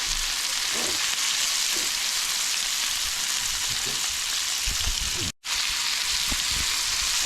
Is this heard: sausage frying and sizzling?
yes